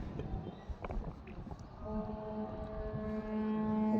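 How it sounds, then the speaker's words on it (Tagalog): A departing ship's engine drones steadily with a low horn-like hum rising partway through, wind buffeting the microphone and faint voices in the background, at Aroroy, Masbate. "Alis na yung barko guys oh"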